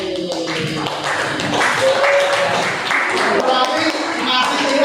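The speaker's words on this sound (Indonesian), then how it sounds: "Beri tepuk tangan buat teman kalian." Students clapping for a classmate in a classroom, a dense patter of many hands lasting several seconds, with a voice talking over it.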